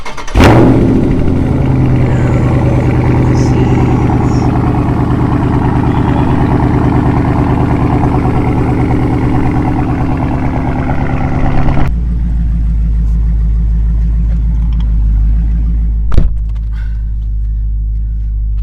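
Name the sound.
car engine starting up and idling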